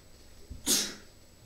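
A single sharp sneeze bursts out after a brief inhale, loud and close, in a quiet room during a podcast recording.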